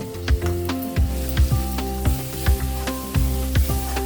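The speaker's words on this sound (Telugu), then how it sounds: "తర్వాత ఆ పేస్ట్ను కూడా కడాయిలో ఉన్న మిశ్రమంలోకి జత చేసి బాగా కలపాలి" Ground paste is stirred into a curry sizzling in a kadai, with a continuous frying hiss and about ten regular scraping, clattering strokes of the spoon, close up and with no talk.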